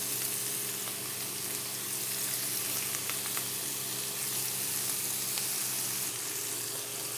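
Onion frying in butter for paneer biryani gives a steady, even sizzle with a faint crackle throughout, close and moderate in level over a low hum, with no talking.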